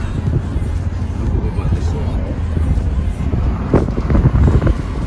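Steady wind rumbles and buffets the microphone outdoors in Tagaytay, Philippines, while people talk nearby.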